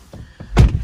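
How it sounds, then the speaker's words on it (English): The door of a 2020 Tesla Model 3 Long Range shuts with a single close, solid thunk, after a couple of faint clicks. "Close the door."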